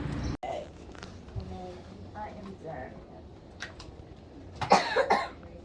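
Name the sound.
child coughing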